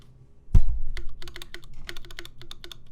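Close typing on a Titan65 prototype mechanical keyboard: a heavy spacebar thock at the start, then a quick run of crisp, poppy keystrokes in an uneven rhythm.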